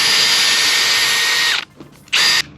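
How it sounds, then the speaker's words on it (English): Power drill boring holes through a boat hull during seacock work, a loud high whine running steadily, then stopping, a brief gap of faint noise, then a short second burst of drilling; no voices. "I've got a drill and I've got some holes"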